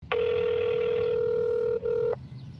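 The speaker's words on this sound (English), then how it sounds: "At the tone, please record your message." A voicemail recording tone sounds after a forwarded phone call greeting: one loud, steady electronic beep that holds, breaks off for an instant, then resumes briefly before cutting out, heard alone.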